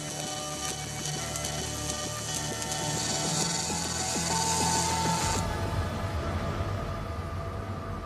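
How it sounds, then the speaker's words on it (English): An industrial welding robot in a Tesla factory runs its programmed route, giving a continuous mechanical whirring with rapid ratcheting clicks and a shift in tone partway through, close and without speech. "The robot works out the most efficient route and runs the program."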